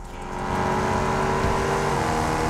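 A race car's engine revs hard and steadily in the Test Drive Unlimited driving game, a continuous loud roar that holds its pitch from start to finish with nothing else over it.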